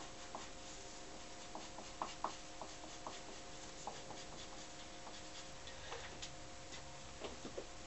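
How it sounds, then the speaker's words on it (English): A pen or marker taps and scratches faintly along the edge of a bellows cover pattern as cut lines are marked, giving irregular small clicks and strokes in a quiet room. "So now we're going around and mark the cut lines on the edge."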